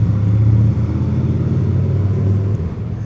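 Honda Shadow 750 Aero motorcycle engine rumbling as it rides through a parking garage, a steady low drone with a slight dip partway, close and continuous with no talking.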